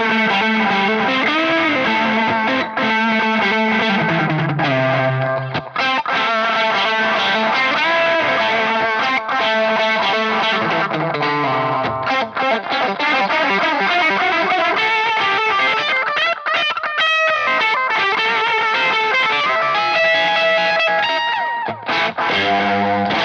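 Electric Stratocaster guitar played through a Ceriatone Big J JP100 amp with pedals and an echo effect, distorted notes and chords with repeating echoes trailing behind them, loud and continuous with no talking.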